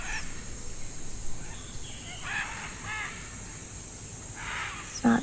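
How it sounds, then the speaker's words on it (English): Macaws call in the distance in a jungle setting, several harsh, raspy squawks spread across a few seconds over a steady hiss of insects and ambient noise. "There's a sound of macaws in the distance."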